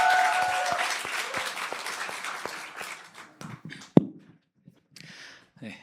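Church congregation at a discipleship training graduation service gives warm applause to welcome a deacon coming up to share a testimony, strong at first, then thinning into scattered claps and a few shuffling taps.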